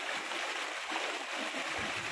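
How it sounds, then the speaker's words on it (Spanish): Floodwaters of the overflowing Lagartero river rush past a street, carrying many logs, a steady broadband roar of churning water with a low surge near the end, no voices. "porque el agua está arrastrando muchísimos, muchísimos troncos. Viene con mucha intensidad."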